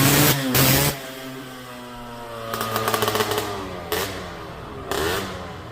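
A Vespa LML PX 150 scooter engine with a 193cc Malossi MHR kit revs sharply in short bursts, with pauses of steady idling between the loud, buzzy blips of throttle.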